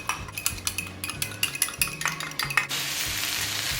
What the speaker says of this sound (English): and to thicken the sauce we're adding cornstarch. Then we're gonna go ahead and stir everything.